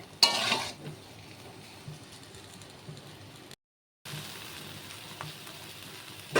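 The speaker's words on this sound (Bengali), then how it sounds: "তো ভালো করে এটাকে মিশিয়ে নিই মশলাগুলো আলুগুলোর সাথে।" Potatoes being stirred with spices in a kadai, a spoon scraping and turning them in soft, uneven strokes over a low steady sizzle, with one louder clatter early on and a brief gap midway.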